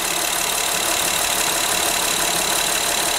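Honda Ridgeline engine at hot idle, with a lean P0171 check-engine fault: a steady, loud, unbroken hum and hiss close by, with no talking.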